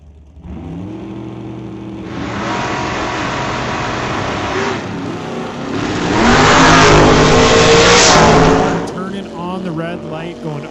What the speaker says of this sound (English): Emily Gerard in the dragster, Brad in that 68 Camaro over there.